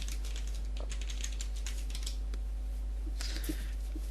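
Rapid, irregular clicking of a computer keyboard being typed on close by, with a steady low hum underneath and a short flurry of keystrokes near the end.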